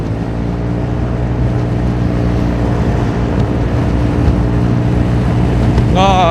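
A Honda Forza 350 scooter speeds along an open road under a loud, steady engine drone. Heavy wind rush nearly buries it, and a brief rising whine comes at the very end.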